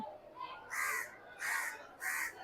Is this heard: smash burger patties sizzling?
no